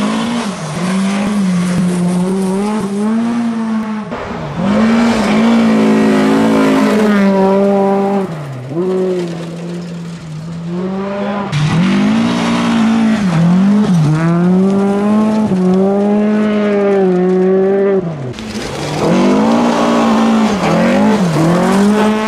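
Volvo 940 rally car at full attack on a gravel stage at Västrallyt 2022, its engine loud and close, with harmonics climbing and dropping through repeated hard gear changes and brief lifts across the run.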